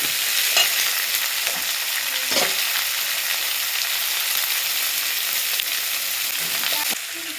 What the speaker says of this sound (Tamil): இப்போ பாருங்கள், தக்காளியெலாம் நல்லா வதங்கிடுச்சு.